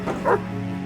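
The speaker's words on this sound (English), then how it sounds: "The dog growled menacingly and began barking even faster and louder" A dog gives a short, close bark that rises into a whine or yip, with nobody speaking and a low steady hum behind it.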